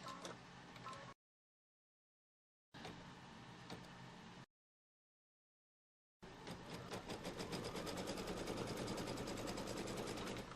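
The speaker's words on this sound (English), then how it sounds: "It's now going to do a stitch line from here down to here diagonally." An embroidery machine stitches a diagonal quilting line on a Kimberbell quilt block, its rapid, regular needle chatter sounding close and steady in two short bursts and then one longer continuous run, separated by silences.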